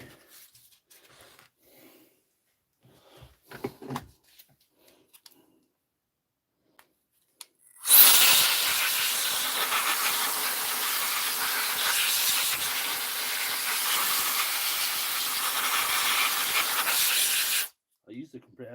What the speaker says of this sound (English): I used the compressor.